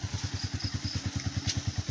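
A motorcycle engine runs close by with an even, rapid thumping pulse, loud and steady, with no voices over it.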